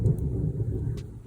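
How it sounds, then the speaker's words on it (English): Low thunder rumbles steadily for a moment, a deep continuous roll that is heard indoors during a crochet session and fades slightly toward the end. "Ooh, thunder."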